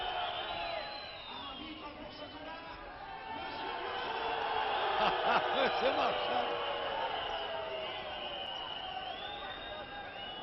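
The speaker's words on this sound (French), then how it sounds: "a reçu les acclamations que vous avez pu entendre" Crowd noise from spectators at a wrestling match, a sustained murmur and cheering directed at the referee, with a commentator talking over it throughout.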